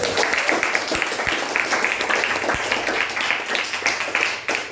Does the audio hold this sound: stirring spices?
no